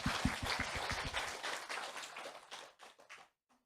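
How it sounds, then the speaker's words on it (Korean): A church congregation breaks into brisk applause at a testimony gathering, a dense burst of clapping with a few sharp claps up front that thins and fades out within a few seconds. "하나님께 영광의 박수를 올려드립니다."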